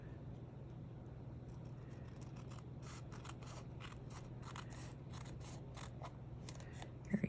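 Scissors snip through a paper envelope pocket in a run of quick, faint cuts over a low steady hum, close by, ending in two slightly sharper clicks.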